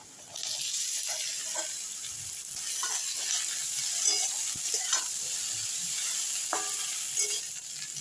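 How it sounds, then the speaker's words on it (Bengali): Chopped onion fries in a pan with salt, turmeric and boiled figs, a continuous gentle sizzle broken by scattered spatula scrapes and clicks. "পেঁয়াজগুলো একটু হালকা ভেজে নিয়ে এবারে দিয়ে দেবো লবণ হলুদ দিয়ে সিদ্ধ করে রাখা ডুমুর।"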